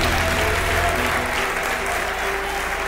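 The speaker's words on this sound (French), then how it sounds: "Est-ce qu'on peut applaudir Charité, s'il vous plaît?" Steady, loud audience applause fills a talent show semi-final hall, a dense wash of clapping that holds throughout with a slight tapering toward the end.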